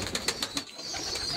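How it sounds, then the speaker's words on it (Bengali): Local breed pigeons cooing at close range, soft repeated coos in an uneven rhythm over a steady background hiss, with no voices. "এটা দেশীয় জাতীয় কবুতর,"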